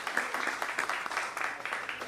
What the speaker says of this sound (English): So let's give a round of applause to everybody